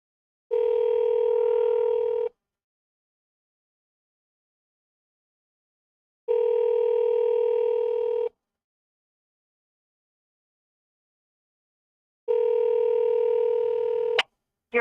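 An outgoing telephone call rings out on the line: three identical steady ringback tones, each lasting about two seconds and spaced evenly by silence, with a sharp click as the call connects at the end.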